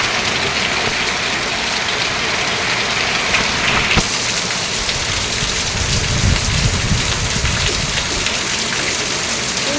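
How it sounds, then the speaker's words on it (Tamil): Heavy monsoon rain pours steadily, a dense loud hiss of drops drumming on surfaces close by, with a low rumble underneath and no voices. "ரொம்ப அதிகமாக மழை பெய்யுதுங்க."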